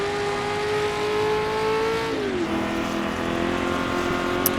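A blue McLaren race car in a racing video game set at the 1966 Goodwood Tourist Trophy, a loud sustained engine drone whose pitch drops as it passes, alone without talk.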